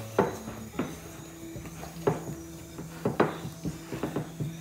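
Bhatura dough kneaded by hand on a hard surface, with a series of irregular dull thumps and knocks, some sharper than others, close by against a faint steady hum, no talking.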